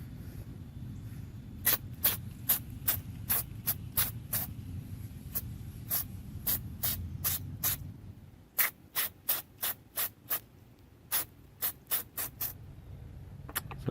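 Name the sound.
spraying white lithium grease on 1949 Chevy truck window guides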